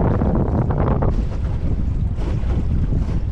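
Strong wind buffets a microphone on open water during a bass fishing trip in Georgia, a loud, continuous roaring gust with rumbling low-end noise and the wash of waves, with no talking.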